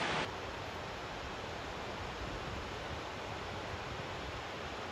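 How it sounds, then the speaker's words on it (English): Water rushes steadily at the Kadisha Grotto waterfall in Lebanon, a constant, dense roar that stays even for the whole five seconds with no voices. "Ooh, you can see the waterfalls."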